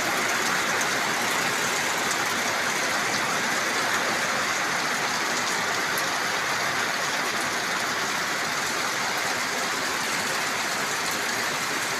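Heavy morning rain pours in the countryside, a dense, loud and unbroken hiss with no voices and no pauses.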